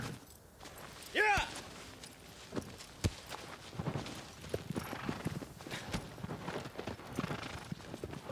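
Agro, the horse in Shadow of the Colossus, clip-clops at a gallop with quick, rhythmic hoofbeats, and a brief whinny rings out near the start.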